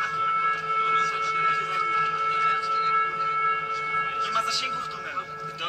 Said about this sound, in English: You can see the siren beeping.